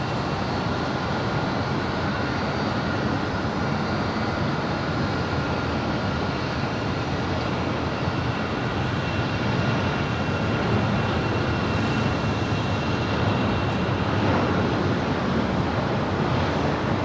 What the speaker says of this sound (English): That was FedEx Flight 1835 departing to Oakland.